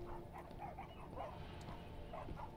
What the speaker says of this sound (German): Was ist das für ein Hundegebell?